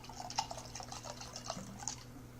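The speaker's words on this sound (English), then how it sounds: "I'll pour myself just a little bit more" Vodka poured into a coffee mug, a soft liquid trickle with small drips and splashes, close and quiet over a low steady hum.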